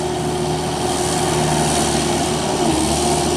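A Kubota-powered crawler tractor tiller engine runs steadily and loudly up close, a continuous low mechanical drone with a steady hum and no pauses.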